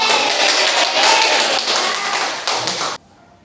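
A classroom of pupils claps together on a teacher's cue, a dense, steady burst of hand claps close by that holds for about three seconds and then stops abruptly.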